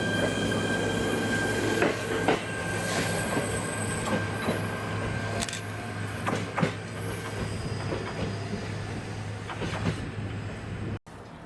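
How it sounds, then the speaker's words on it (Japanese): An old former JNR-type electric train pulls away from a station on the Echigo Line, with a loud low rumble, squealing wheels, sharp clanks and tonal whines, heard close and steady and then cut off abruptly near the end. "発車します。"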